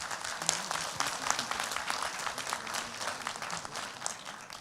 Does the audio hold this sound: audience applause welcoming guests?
yes